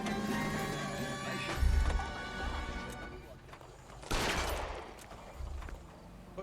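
Gunfire in the L.A. Noire detective video game: bursts of sharp shots and crashing impacts come in clusters, loud and close, with a heavy thump and a dense rattle partway through, under game sounds.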